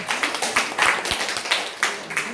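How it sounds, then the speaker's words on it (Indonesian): Audience clapping at an Indonesian gathering, a loose, uneven patter of individual hand claps with distinct sharp hits, fairly close and lively, lasting a couple of seconds. "boleh tepuk tangan teman-teman."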